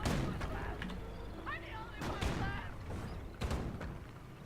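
Sharp sniper rifle shots ring out in a WWII video game, several loud cracks and booms over continuous battle noise while people talk over the action.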